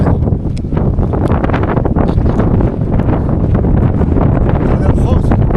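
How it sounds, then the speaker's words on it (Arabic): Strong wind buffets the microphone of someone walking along a road, a loud, continuous rumbling roar with gusty bursts throughout. "صعيبة شوية في هاد الريح هادي"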